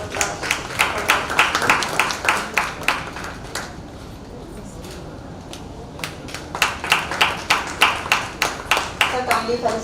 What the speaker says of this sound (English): Maybe we will have a big round of applause.